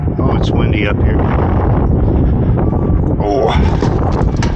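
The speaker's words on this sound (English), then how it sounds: "it's windy up here" Wind buffets the microphone with a constant low roar while people talk nearby on a rooftop beside a Lennox rooftop HVAC unit.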